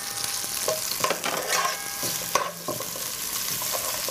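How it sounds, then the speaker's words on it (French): Onions sizzling in a hot pan while being stirred, a constant frying hiss broken by several distinct scrapes and clinks of a utensil against the pan, heard up close without talk. "On fait bien revenir les oignons."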